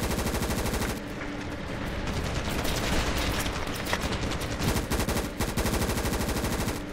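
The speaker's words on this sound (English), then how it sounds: "The M16A1 has a high fire rate" M16A1 rifle fired in the Ravenfield video game, loud rapid automatic bursts in close succession that nearly fill the whole stretch, with brief pauses between strings of shots.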